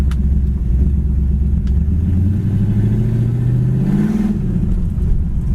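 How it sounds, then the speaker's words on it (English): A 1972 Chevy Nova SS V8 with open exhaust cutouts rumbles deep and loud up close. A single rev climbs steadily in pitch, then falls back to a lumpy idle, with no talking. "Sounds awesome with the exhaust cutouts"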